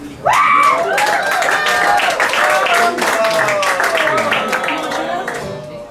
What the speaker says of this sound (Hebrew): כולם כפיים לאמא שלי.